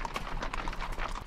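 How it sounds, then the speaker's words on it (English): Galloping horse hooves from the Attack on Titan anime give a fast, rapid clip-clop rhythm of soft repeated thuds in a brief burst. "Listen to the sound of the hooves."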